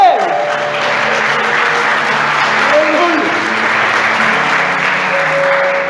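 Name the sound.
audience applause in church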